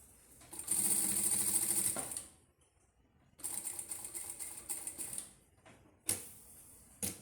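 A sewing machine stitches bias binding onto a baby's bib in fast, clattering runs: one long burst, a pause, a second choppier run, then short final bursts, all close and clear.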